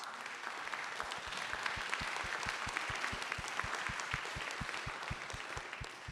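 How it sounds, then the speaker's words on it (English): Steady applause from a community forum audience, many hands clapping continuously at an even level for several seconds. "One more round of applause to PCCEP members."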